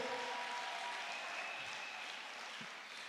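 Church congregation at an Easter service applauding, a dense sustained wash of many clapping hands filling the room, steady then easing slightly at the end, with no talk.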